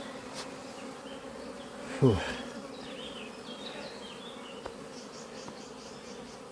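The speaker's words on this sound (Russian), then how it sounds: "Так, пчелки, пчелки." Honey bees hum steadily around an opened hive frame holding brood during queen rearing, a close, continuous drone with a brief sharp handling noise and a short exhale from a person partway through.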